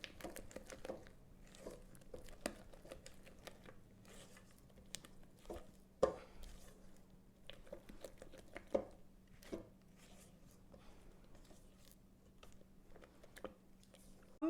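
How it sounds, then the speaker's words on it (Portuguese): A spatula mixes a heavy chocolate mousse cream in a bowl, giving quiet, dense, irregular taps, scrapes and wet clicks that come close together throughout, with occasional sharper knocks against the bowl. "eu vou misturar aqui bem nessa primeira etapa"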